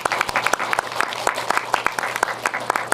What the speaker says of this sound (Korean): 저희 박수 한번 보내드릴까요?